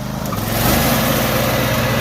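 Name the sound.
Cub Cadet Super LT 1554 lawn tractor engine running to mow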